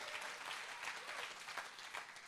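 Steady applause from a crowd, a continuous wash of clapping throughout, moderately distant.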